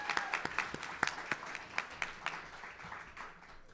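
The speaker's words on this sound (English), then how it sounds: "And I just want to give a separate round of applause to Eric for all of his years of service." A gala audience breaks into applause, a scattered round of clapping heard at a moderate distance that thins out and fades over a few seconds.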